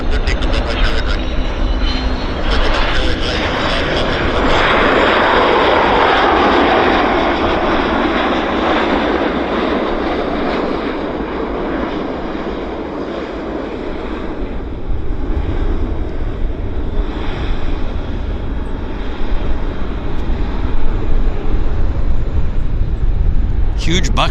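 A jet airliner departs a runway at Vancouver airport, its engine roar loud and sustained throughout, swelling and easing slightly as it climbs away, with air traffic control radio voices underneath.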